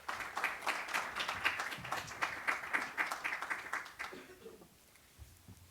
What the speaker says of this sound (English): let's please give Mr. Clancy a round of applause